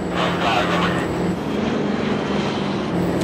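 Airliner jet engines spooling up to takeoff power, a steady loud roar with a faint whine, heard under cockpit voices.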